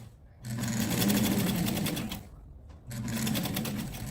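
A sewing machine stitches a children's dress with elastic shirring thread across the back, giving two steady runs of rapid whirring with a brief stop between them.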